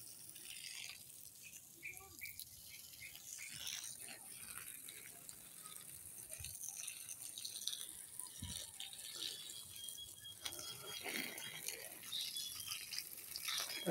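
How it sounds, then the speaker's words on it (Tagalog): A garden hose waters squash plants in a dry plot: a soft, steady watery hiss runs throughout, faint and constant, with occasional small clicks and knocks. "Mahaba pang hose kasi malapit lang ang ating didiligan."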